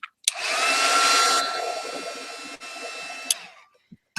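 A handheld heat dryer blows over an art journal page, a steady loud whir that drops slightly in pitch partway through, with a few small clicks and knocks as it shuts off near the end.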